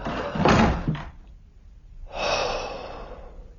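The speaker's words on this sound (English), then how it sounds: "Shut the door after us." A shop door pushed shut during a radio drama break-in scene, a thud and scrape near the start followed by a breathy whoosh, heard up close with no talk.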